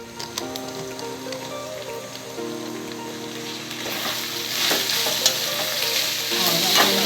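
Mutton seasoned with chilli powder and turmeric sizzles and fries steadily in a pan, a dense crackling hiss that grows louder toward the end, with no voices.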